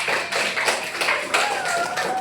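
A classroom of students applauding together, a dense steady patter of many hands clapping at once, with a faint voice or tone threading through the second half.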